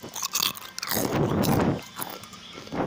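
Close-up crunching bites of crunchy chips, several loud crackly chews rising and falling in clusters, captured intimately for ASMR with no talking.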